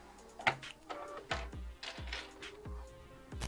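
A sewing machine stitching a travel backpack runs in several short bursts, starting a few stitches in, backstitching, then stitching forward, each burst ending in a clunk, close and loud with no talking.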